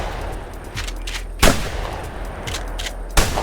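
Two sharp rifle shots from the hunting game theHunter, about two seconds apart, each a loud broadband crack with a short decaying tail over a steady low outdoor ambience.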